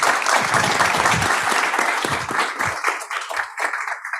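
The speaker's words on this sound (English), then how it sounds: "If we can get a round of applause for them real quick." An audience at a Houston technology event gives a tech panel a round of applause, a loud burst of many hands that gradually thins into scattered claps.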